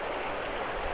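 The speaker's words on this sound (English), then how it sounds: "There's a lovely river here" A river in Snowdonia flows steadily and close by, a continuous broadband rush of moving water with no pauses or voices over it.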